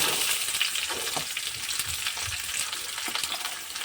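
Onion fries in a pan for paneer makhni, giving a steady, close sizzle with occasional stirring clicks and no talking.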